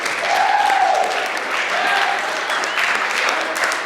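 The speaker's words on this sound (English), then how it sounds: "Let's give him a round of applause." An audience at a school assembly applauds an Eagle Scout, a sustained wash of clapping from a mid-sized crowd, moderately loud with faint voices underneath.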